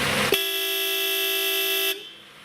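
Alternate town-and-country horn note of a 1991 Mercedes-Benz S-Class, picked with a center-console button: one loud, bright, sustained honk of roughly one and a half seconds, abruptly released.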